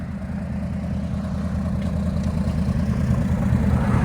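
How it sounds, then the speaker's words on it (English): A 2015 RAM 1500 pickup with a 5.7L HEMI V8 and true dual straight pipes idles with a deep, steady low rumble, heard alone and swelling slightly louder toward the end. "It's got a really nice idle to it too"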